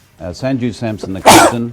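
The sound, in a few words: sneeze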